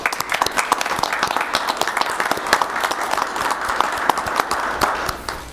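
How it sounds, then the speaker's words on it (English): Audience at a city council meeting breaks into steady, dense applause, many hands clapping together close by for several seconds before tapering slightly at the end. "I think I should give you guys a round of applause for that."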